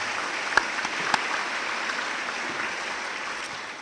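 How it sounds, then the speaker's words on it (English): Steady applause from a crowd at a college opening day convocation, a dense wash of clapping that holds evenly throughout with a couple of sharper individual claps standing out. "a great round of applause for our honorary chairs"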